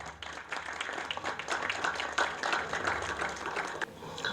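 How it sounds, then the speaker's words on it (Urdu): An audience at a literary evening at PACC Karachi applauds as a speaker is welcomed to the stage, a fairly quiet, steady patter of many hands heard from some distance, then cutting off abruptly. "آپ سب کی بھرپور تالیوں میں"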